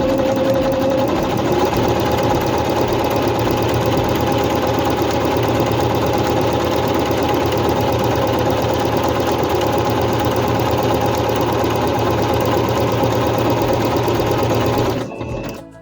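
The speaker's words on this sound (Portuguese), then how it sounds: "Posiciono o tecido na máquina, abaixo a sapatilha. Sem fazer o arremate, eu faço o zigue-zague de uma extremidade à outra." A Singer C5605 electronic sewing machine runs a zigzag stitch across fabric, a steady fast mechanical whirring hum held near and loud for the whole stretch before stopping abruptly at the end.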